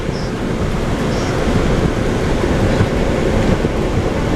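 An R179 subway train runs on the A line in New York, heard from inside the car as a loud, steady roar of wheels and rumble with a continuous hiss and no pauses.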